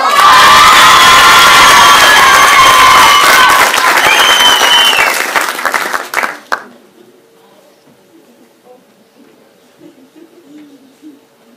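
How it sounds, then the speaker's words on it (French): Children's audience at a school slam poetry show cheering, shouting and applauding for the next performer, a loud dense burst that cuts off abruptly to near silence with faint room noise. "je vous demande de chauffer vos mains et d'applaudir notre prochain slameur"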